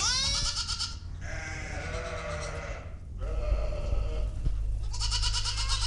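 In a barn housing goats, loud nasal bleats ring out close by, one after another with brief gaps, over a low rumble of livestock movement.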